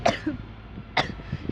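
A person with flu gives two sharp, close coughs about a second apart, each followed by softer throaty rasps in a quiet room.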